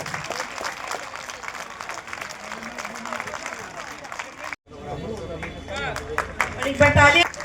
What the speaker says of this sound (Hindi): 5 लोगों के लिए साथ में ताली बजानी